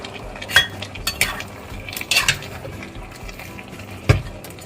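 Green chicken curry with pea eggplants being stirred in a pot at home, a utensil clinking and scraping against the pot several times at close range over a low simmer, with no talking.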